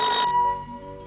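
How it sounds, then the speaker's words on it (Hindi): A phone's electronic ringtone sounds as a short burst with a steady tonal note, cutting off abruptly partway through while a faint tone lingers. "रैंचो, जरा फोन ले लो भाई।"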